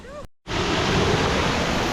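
Small waterfall on a mountain stream along an alpine trail, a steady broadband rush of falling water that is loud and close, cutting in suddenly after a brief silence and holding constant without talk.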